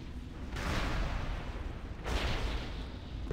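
Two heavy explosive blasts in a video game, firecracker-like booms set off in the distance, each a broad loud burst with a rumbling tail, about a second and a half apart.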